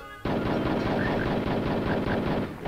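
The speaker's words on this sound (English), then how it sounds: "Heavy machine gun." A heavy machine gun in the Hogs of War video game fires a sustained, dense burst that starts abruptly and rattles on loudly without pause until the end.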